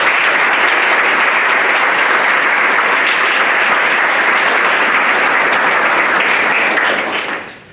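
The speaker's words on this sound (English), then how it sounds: "Give them a round of applause for that." A town board meeting audience applauds a boys varsity cross country team. The clapping is loud, steady and dense for about seven seconds, with no talk over it, then tapers off at the end.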